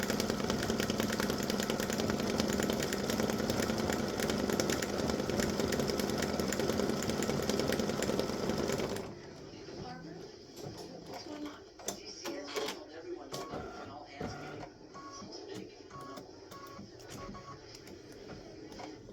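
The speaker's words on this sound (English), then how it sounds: "it's going to stitch some little buds, flower buds up there" An embroidery machine stitching small flower buds on a fall wreath alphabet design gives a loud, steady, rapid mechanical whir for about nine seconds, then stops. Quieter clatter and a voice follow.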